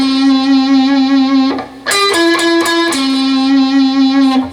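A distorted electric guitar plays a short lick, holding a sustained note with wavering vibrato before sliding through a few quick notes, loud and alone.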